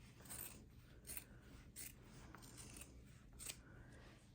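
Scissors trim fabric for a Christmas stocking in a series of faint, close snips, about six crisp cuts spaced unevenly amid soft rustling.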